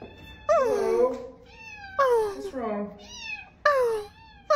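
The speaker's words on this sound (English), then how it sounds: "My COVID cat. Oh, look at her." A pet cat meows four times in rising and falling, drawn-out calls, close and clear, with short pauses between them.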